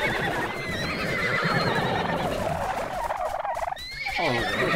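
Horses neigh and whinny repeatedly in a video game, several loud shrill calls one after another with faint hoof clatter beneath and no talk.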